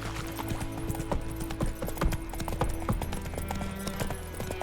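Hooves of Roach, Geralt's horse in The Witcher 3, clip-clopping in a steady walking rhythm, close and distinct over a low ambient hum.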